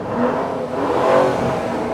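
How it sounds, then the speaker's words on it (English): A 650 brake horsepower 2022 Lamborghini Urus engine runs close by, rising in a quick rev and then settling back to a loud, smooth idle. "Let me just turn the engine on, because very quickly I want you to hear what this car sounds like"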